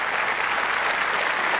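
Studio audience applause on a French TV variety show for a live 1989 performance by a singer, a steady, dense wash of clapping that stays loud and even throughout, with no talk over it.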